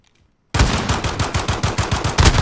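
Rapid automatic gunfire in the Modern Warfare video game, a dense burst of sharp repeated shots after a brief silence, loud and continuous for about two seconds.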